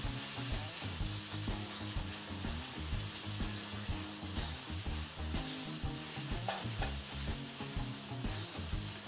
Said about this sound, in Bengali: এখন এটাকে ভালোভাবে কষিয়ে নেব